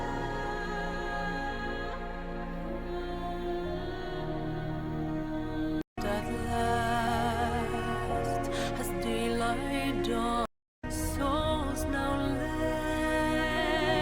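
A dark, dramatic orchestral song sample for a drill beat plays as a dense, sustained music bed, loud and continuous, broken by two brief silent cuts.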